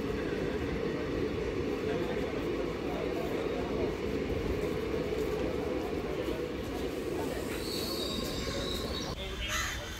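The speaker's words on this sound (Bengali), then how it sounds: "এই তো ট্রেন এসে গেছে, আমাদের বগি এখানেই দাঁড়াবে" A direct train to Digha pulls up at a station platform, a steady, loud rolling rumble with faint squeals and wheel noise throughout, mixed with busy platform background.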